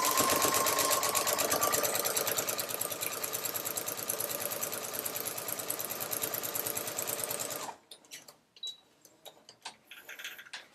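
A sewing machine runs fast and steady for about eight seconds while stitching in the ditch across a quilt-as-you-go quilt block, then stops, leaving faint handling noises.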